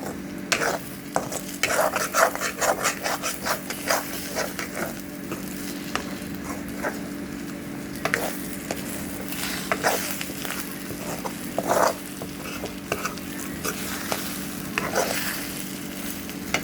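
Onion, green chili and eggs frying in a pan, a steady sizzle under repeated scraping strokes of a spatula stirring the mixture, close and continuous with no talk.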